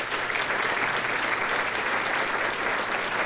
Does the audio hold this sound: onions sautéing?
no